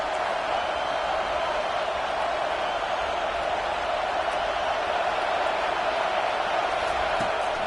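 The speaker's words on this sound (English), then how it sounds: "Decibels rising as the crowd gets behind this defense on third down." Stadium crowd roaring behind the defense on third down at a football game, a loud, sustained wall of noise that stays constant from start to finish.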